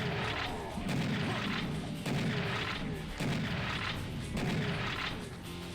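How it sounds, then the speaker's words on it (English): Rapid, repeated gunfire and heavy booming shots from Serious Sam as a reptiloid enemy is shot at, a loud, continuous barrage with regular bursts roughly every second and no talking. "I'll frag him, and then shoot the reptiloid in the jump a few times"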